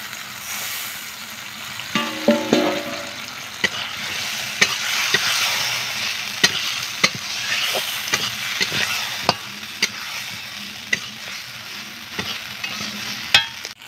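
Cut potatoes fry in a pan and get stirred, a steady sizzle broken by frequent sharp spoon scrapes and taps against the pan, near and fairly loud, with no speech.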